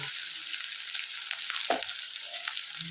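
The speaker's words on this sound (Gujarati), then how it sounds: "સિંગ તેલ નાખ્યું છે, જીરું નાખ્યું છે અને એના અંદર આપણે નાખીશું સિંગદાણા અને લીલા મરચાં" Peanuts and green chillies frying in groundnut oil with cumin seeds over low gas, a close, steady sizzle with a few brief scraping stirs, no voices.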